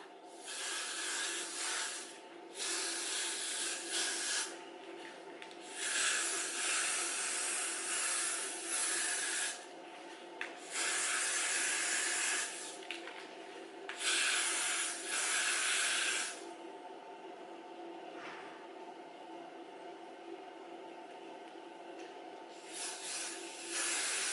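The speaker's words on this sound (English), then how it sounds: "I'm going to do 3 layers of this spray around the entire hairline of the cap." Repeated bursts of adhesive aerosol spray hissing close by as it coats the hairline of a wig cap, several long sprays separated by brief pauses, with a faint steady background hum.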